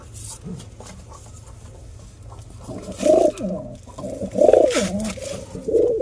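Caged pigeons coo in several soft, rolling bursts close by, rising over a quiet background hum with faint scratching and shuffling.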